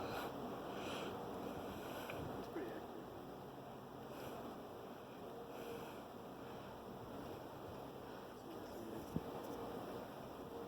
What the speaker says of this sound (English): Yeah, it's kind of breezy, but you know, the wind feels good.